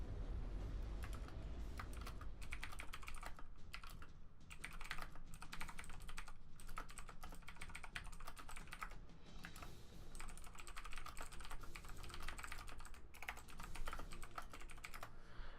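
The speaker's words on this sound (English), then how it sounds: "now that we're done typing there" A computer keyboard is typed on steadily, giving dense, fast, continuous key clatter at a moderate, even level throughout.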